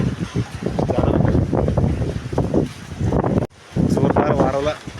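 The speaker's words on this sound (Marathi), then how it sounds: "वारा पण सुरुवात झालेली आहे एकदम जबरदस्त पाऊस पडणार आहे" Strong wind buffets the microphone in loud gusts as a dust storm brings on heavy rain, while a person talks over it, with a brief drop in the middle.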